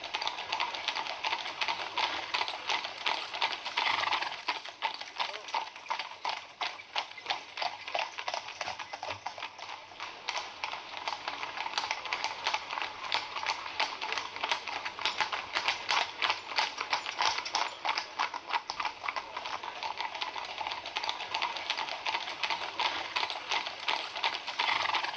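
Horses' hooves clip-clop steadily in a fast, even rhythm while pulling a carriage up toward a moated palace at Bad Pyrmont, the clatter continuous and fairly close throughout.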